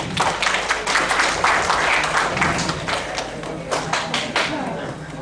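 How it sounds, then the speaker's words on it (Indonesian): Steady applause from a seminar audience, many hands clapping together in a sustained, loud burst that tapers slightly toward the end. "Tepuk tangan dulu."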